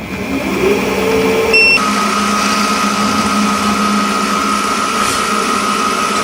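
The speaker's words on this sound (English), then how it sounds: "I'm going to come in here as fast as the mill will go and just establish the beginnings of a hole" Milling machine running at full speed while starting a hole in a compact power hacksaw blade frame: a steady motor whine that steps to a new pitch about two seconds in, then holds evenly.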